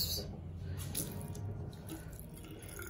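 Water runs steadily from a tap opened for a cat, a continuous splashing flow with faint drips, fairly close and with no talk.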